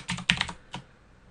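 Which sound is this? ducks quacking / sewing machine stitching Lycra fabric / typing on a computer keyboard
typing on a computer keyboard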